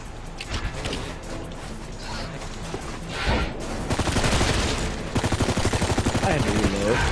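Zombies-mode video game gunfire, repeated bursts and rapid automatic shots that grow denser and louder toward the end, with a player's voice mixed in among the shooting.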